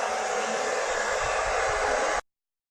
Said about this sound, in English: I'm just going to blow dry my hair.